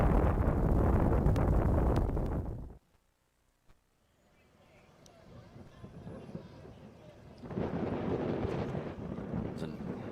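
Blown fuel modified roadster with a new four-cylinder engine racing across a dry lake, a loud broadband roar that cuts off abruptly, then a faint rise as the car returns and builds again to a strong, steady roar.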